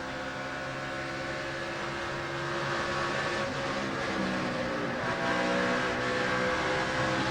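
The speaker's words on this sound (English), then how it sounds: "You can hear how much he jumped off the throttle and probably put some brake on as well." A NASCAR stock car racing in the 2006 Golden Corral 500 gives a steady, loud engine roar with a slight swell partway through, heard on a race replay without commentary.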